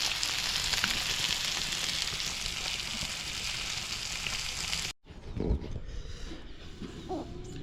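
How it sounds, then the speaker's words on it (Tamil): Snakehead fish frying on a wood-fired stove, a steady, loud hiss and crackle of hot oil that cuts off abruptly, followed by quieter outdoor sounds and faint clatter. "இந்த மீன் வந்து வறுக்கிறதுக்கு விறகடுப்பில் நல்லா வறுக்கிறேன்."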